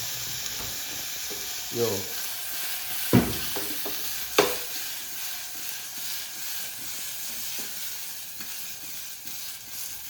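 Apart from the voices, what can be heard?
dhokla frying in pan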